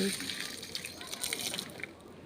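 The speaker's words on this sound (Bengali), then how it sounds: "সেই গোলাপ গাছে জল দিয়ে দিচ্ছি" Water gushes steadily from a hose or tap onto potted rose and hibiscus plants in a home garden, a continuous close splashing wash that fades slightly at the end.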